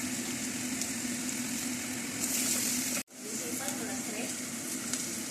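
Mushrooms with saluyot frying in a pan, a steady close sizzle that runs throughout, cut by a brief drop near the middle before resuming.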